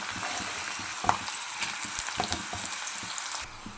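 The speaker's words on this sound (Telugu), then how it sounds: "ఇప్పుడు దీనిలోకి ఎండుమిర్చి వేసుకోవాలి" Dried red chillies sizzle in hot frying oil while pulihora tempering is prepared, a steady close crackle broken by occasional stirring scrapes, with no voices.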